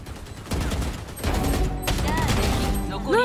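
Gunfire in a tactical shooter video game: a dense burst of rapid shots and impacts, loud and close, with brief ringing tones near the end.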